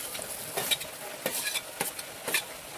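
Onion fries in a pan with chillies and garlic while a spoon stirs it, giving a steady close sizzle broken by several sharp scraping strokes spaced through the clip.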